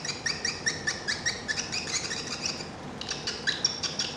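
Swiftlets chirp inside a swiftlet farming building, a rapid series of sharp, bright repeated calls in steady bursts with a short pause midway, close and clear with no talk.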